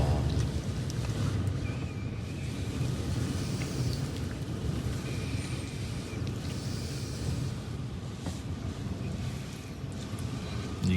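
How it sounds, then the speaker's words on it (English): Strong wind buffets the microphone outdoors in a loud, continuous rumbling roar that barely varies, with a faint background hiss running through the whole stretch. "It's a bit windy, isn't it"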